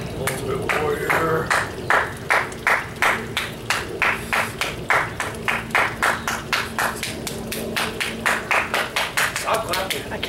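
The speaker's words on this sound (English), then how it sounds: "I can't clap any faster, man." Rapid hand clapping at a swimming pool, a fast, even run of sharp claps repeating about three times a second for ten seconds, close and loud, with people talking underneath.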